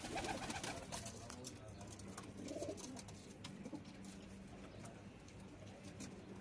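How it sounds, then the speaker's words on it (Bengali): Pakistani pigeons at a pigeon-flying competition in Kuwait coo softly in low, rolling phrases that repeat amid a dense outdoor background hum. "অনেক সুন্দর সুন্দর কবুতর।"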